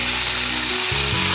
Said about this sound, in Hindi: अभी इसको अच्छी तरह सौते करना है, अच्छी तरह सौते करना है, soya sauce ginger garlic salt pepper